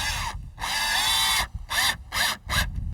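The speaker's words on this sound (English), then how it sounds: "go ahead and screw one of these screws in" A power drill drives a screw into a storm door during installation, whirring loudly in close bursts: one long run, then several shorter pulses as the screw seats, with no voices.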